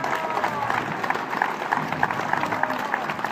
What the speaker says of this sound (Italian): Allora c'è bisogno di nuovo di un altro applauso